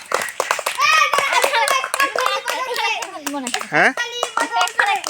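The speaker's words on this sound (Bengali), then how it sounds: "সবাই হাততালি দাও" Children clap their hands together at a small picnic party, scattered claps mixed in with close, busy kids' chatter and an adult voice.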